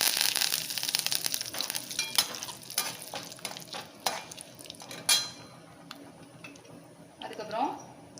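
Curry leaves frying in hot oil in a pan, a continuous crackling sizzle with occasional utensil clinks and stirring scrapes, fairly close and moderate in level.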